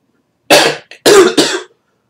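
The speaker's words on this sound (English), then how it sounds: "I had to pause the video due to coughing" A person coughs three times in close succession, near and loud, with a brief throat sound between the first and second coughs.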